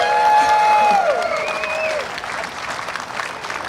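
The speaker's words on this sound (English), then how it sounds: "Everybody applaud for this guy right here." An audience at a UTV short course racing drivers' meeting bursts into sustained applause and scattered cheers, loud at first and then tapering slightly, while a voice carries over the clapping.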